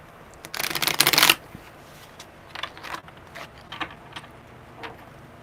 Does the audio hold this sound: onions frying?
no